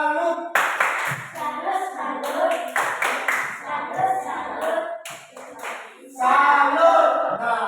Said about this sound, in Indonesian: tepuk tangan untuk kelompok dulu